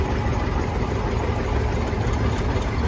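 A John Deere 70 tractor engine runs steadily at a summer threshing show in Madison, South Dakota, a loud continuous low rumble with a constant idle-like drone throughout and no talking.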